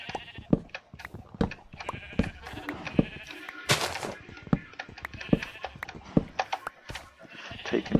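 Sheep bleat repeatedly in the Minecraft video game, with short, overlapping game bleats over scattered clicks and taps, heard alone without talking.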